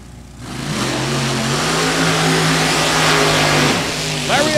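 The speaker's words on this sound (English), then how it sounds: "Dragster comes up now." A dragster with a 598 big block engine in a 2000 Yonce chassis revs loudly at a hot rod drag race, its engine note climbing and holding steady for several seconds before easing off, close and dominant.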